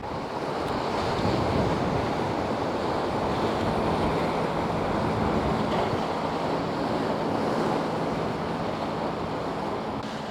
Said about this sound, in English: Just down here where the waves are crashing over these boulders